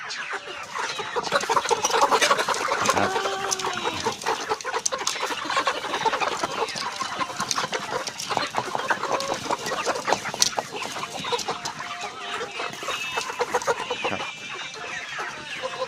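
Young laying hens cluck and chatter steadily throughout, a busy flock close by with music playing faintly underneath.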